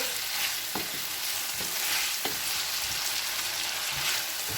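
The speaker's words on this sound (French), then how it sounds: "C'est comme ça qu'on cuit les légumes de la paella." Vegetables for paella sizzle loudly in a pan as a utensil stirs them, with bright, continuous frying hiss punctuated by a few soft scraping knocks at a roughly even pace.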